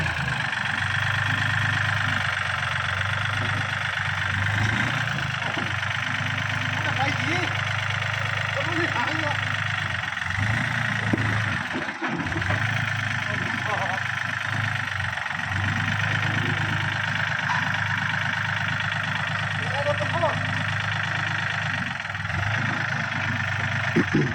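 A Ford tractor engine runs at a steady idle close by, a continuous low rumble throughout, with a person talking over it.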